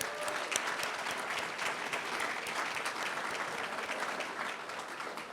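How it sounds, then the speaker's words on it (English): Dense, steady applause from an audience at a high school football awards ceremony fills the room evenly for several seconds, with no voice over it. "Let's give them a round of applause."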